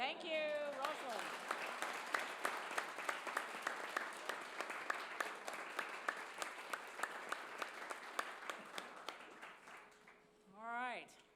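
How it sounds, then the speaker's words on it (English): An audience at a conference panel on geospatial monitoring for carbon markets gives a sustained round of applause, dense steady clapping that gradually fades, with voices speaking briefly at the start and end. "we're going to send her out the door with a big round of applause"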